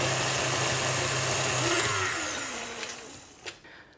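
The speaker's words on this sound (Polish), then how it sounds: "Ja zawsze najpierw te suche składniki mieszam sekundkę rózgą, a potem już będę zmieniać na hak." A kitchen stand mixer whisks dry ingredients for a honey layer cake, its motor whirring steadily and loudly before slowing and winding down with a few light clicks.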